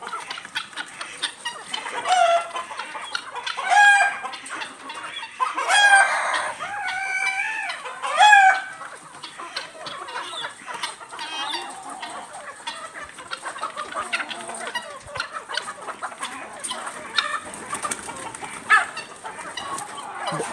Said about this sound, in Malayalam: കരിങ്കോഴി നാടൻ കോഴിനൊക്കെ ഞങ്ങൾ വിട്ട് കാണിച്ചിരുന്നിട്ടുണ്ട്